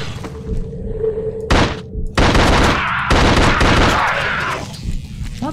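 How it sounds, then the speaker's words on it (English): Tommy gun firing in The Suffering video game, loud sustained bursts of rapid automatic fire in several runs with brief gaps, close and dominant, with thuds between bursts. "Alright, Tommy gun time."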